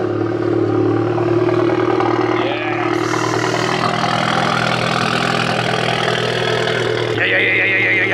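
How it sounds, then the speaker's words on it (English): A car engine cold-starts and settles into a steady, loud idle, a continuous low rumble with a brief rise in pitch partway through and a shift near the end. "Delicious cold start?"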